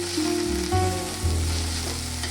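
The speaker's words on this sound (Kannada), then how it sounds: "ಚೆನ್ನಾಗಿ ಫ್ರೈ ಮಾಡ್ಕೋಬೇಕು" Greens with garlic frying in oil in a pan give off a steady close sizzle with a few stirring bumps and no voices.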